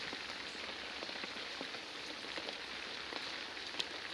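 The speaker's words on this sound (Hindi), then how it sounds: "आ रहा भाई वो बारिश का आवाज़ है" Steady rain patters on a surface, a dense, even hiss of drops with no voices over it, heard during an Urdu religious talk.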